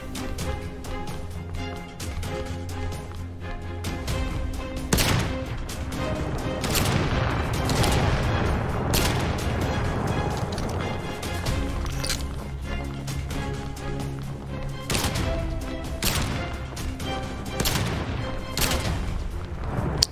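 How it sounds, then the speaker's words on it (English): Sustained gunfire in the video game Hentai VS Evil, rapid bursts and dense volleys running continuously over a steady game backdrop, with booming impacts mixed in throughout. "I need to turn around and start firing."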